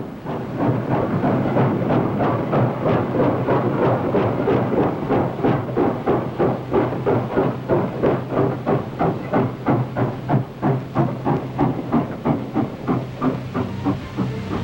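A coal-hauling steam train chugs steadily along the rails, with rhythmic puffs and hiss over a continuous rumble, loud and close throughout.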